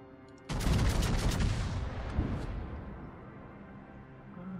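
Main guns of the battleship USS Missouri fire in World of Warships: a sudden loud, dense salvo of booming blasts that rolls and rumbles, then slowly fades, with no voices.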